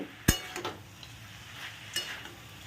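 A spoon scrapes and clinks through a curry with lentil badi in a pan, with a sharp metallic knock at the start and a few softer scrapes and taps after it, over a quiet background hiss.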